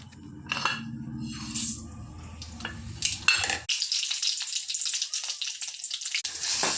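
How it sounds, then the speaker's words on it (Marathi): Chopped onion sautéing in a pan for a soybean curry with black chilli masala, a sizzling, hissing fry with stirring and scraping noises up close, a louder burst of sizzle midway. "कांदा टाकून परतून घ्यायचं"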